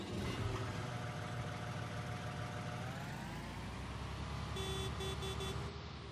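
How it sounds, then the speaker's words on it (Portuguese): Engine of a Stara Hércules 6.0 sprayer in Farming Simulator 19 runs at a steady hum, its pitch rising gradually, with a warbling siren-like beacon tone chiming in near the end. "Vamos ligar o motor aqui então?"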